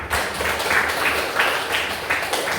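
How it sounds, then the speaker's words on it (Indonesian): A classroom of students claps together in a steady, dense patter that holds evenly for a few seconds, close and fairly loud. "Kita kasih tepuk tangan dulu."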